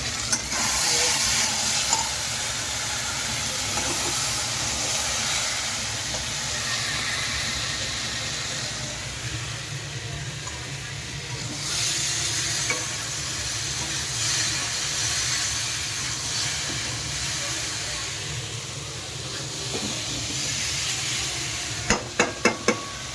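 Bitter gourd, potatoes, long beans and pumpkin fry in a pan at home, giving a continuous steady sizzle and hiss, with a few sharp clinks near the end.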